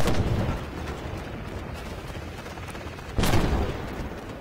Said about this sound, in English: you saw how quickly I'm firing there